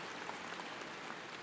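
Steady broadband applause from a large commencement audience at the University of South Florida, dense and even throughout, at a fairly low level with no voices on top.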